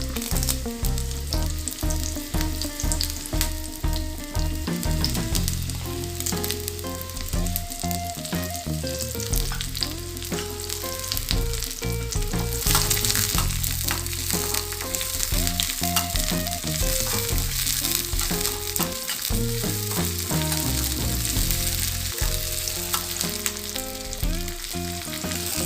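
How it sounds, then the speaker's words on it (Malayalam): Onions and curry leaves frying in hot coconut oil for a Kerala dried shrimp, jackfruit seed and mango curry, a loud continuous sizzle with constant crackling, close by and with no talk. "ഉള്ളി നന്നായി മൊരിയണം."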